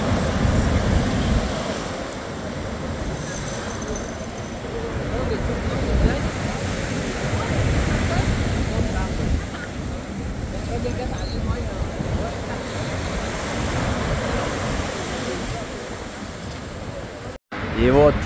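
Rough sea churns and crashes with surging waves near Nice, a loud continuous roar with swelling rhythms and some wind buffeting on the microphone, no other sounds standing out.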